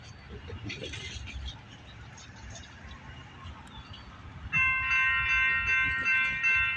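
An Amtrak train led by three ALC-42 locomotives passes at West Sacramento, California: a steady rumble of rolling wagons, then a loud, sustained horn blast partway through.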